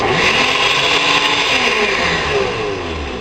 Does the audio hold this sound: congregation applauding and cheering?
no